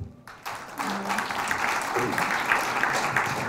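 An audience at a Korean forum breaks into steady applause after a brief quiet start, the clapping filling the room and continuing evenly to the end.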